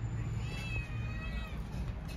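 A cat gives a faint, thin, drawn-out meow on a rooftop, heard under a steady hum of background noise.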